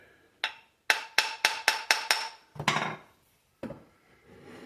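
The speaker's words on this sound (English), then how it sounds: "Whack on the front can move it back quite a bit." Hammer taps on the iron of a wooden hand plane during adjustment: a single knock, then a quick run of six sharp, evenly spaced taps, followed by two heavier, duller whacks, all close and isolated against silence.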